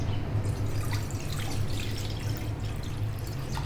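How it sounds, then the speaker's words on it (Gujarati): Water runs from a tap into a cooking pan, about three bowls' worth for heating before a homemade kurkure snack. A steady, continuous splashing trickle holds throughout with no talk. "હવે એક આવી પેન લઈ તેમાં ત્રણ વાટકી જેટલું પાણી ગરમ કરવા માટે મૂકીશું"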